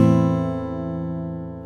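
A sad-sounding chord rings out once on a sustained instrument as a music example, its tones decaying slowly and evenly with no voice over it.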